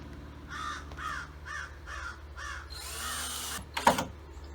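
A crow caws five times in an even rhythm, then a power drill whirs briefly and a sharp knock follows as a screw goes into a board on a car roof rack.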